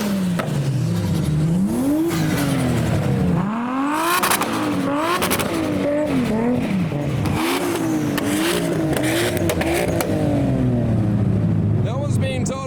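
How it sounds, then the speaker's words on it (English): Twin-turbo V8 race car engine revving hard again and again at a Japanese car show, pitch sweeping up and down in repeated bursts, loud and close with crackling pops. "No one's being told off for revving anymore."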